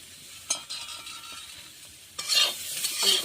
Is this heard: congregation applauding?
no